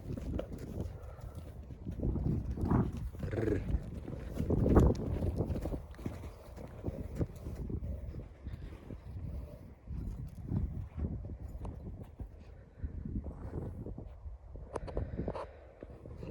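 A ten-year-old mare's hooves clip-clop at a steady walking pace, fairly close, with light wind noise in the background.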